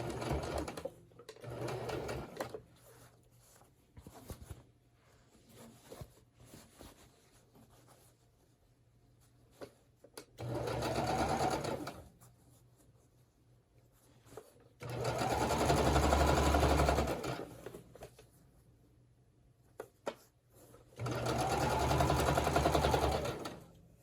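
A sewing machine runs a straight seam on a simple fabric cover in bursts, whirring steadily for a few seconds at a time between quiet pauses, close and clear.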